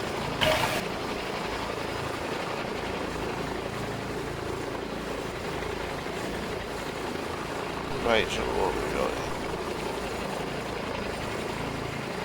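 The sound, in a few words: S-76 helicopter in FlightGear flight simulator video game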